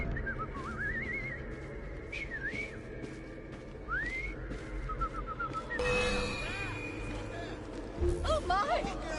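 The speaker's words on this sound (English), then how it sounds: "I've just learned to whistle." A character in the video game Assassin's Creed Syndicate whistles a series of short, rising and wavering tunes in several separate bursts, with voices talking over a quiet background.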